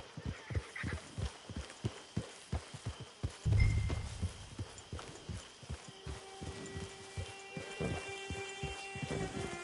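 A horse in Red Dead Online trots with a steady run of clip-clop hoofbeats, close and rhythmic, with a brief heavier thud partway through and faint ambient tones behind.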